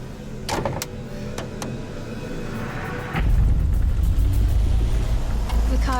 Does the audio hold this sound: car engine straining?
yes